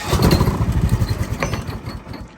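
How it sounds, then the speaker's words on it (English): A car engine turns over and runs, giving a steady, rhythmic, pulsing mechanical throb that stays close and fairly loud for the whole moment with no talking. "made sure that the engine still turns over"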